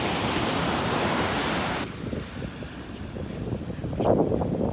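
Big ocean waves pound a beach and its jetty in a loud, continuous wash of surf mixed with wind rush on the microphone. The roar eases briefly, then swells again with a breaking wave near the end.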